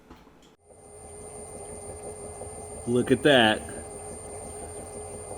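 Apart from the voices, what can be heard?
electric car motor spinning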